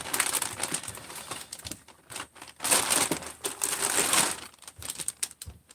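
A Ziploc bag crinkles and rustles as it is handled up close, in loud bursts of crackling plastic broken by short pauses.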